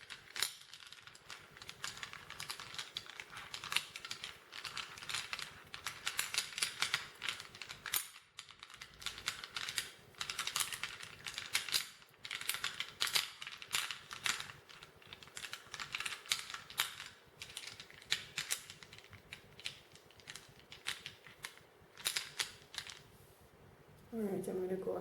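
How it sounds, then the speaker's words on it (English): Small reading stones rattle and click against one another as they are shuffled by hand, a continuous dense clatter that carries on almost without a break before a brief pause near the end. "I'm going to go ahead and shuffle the stones"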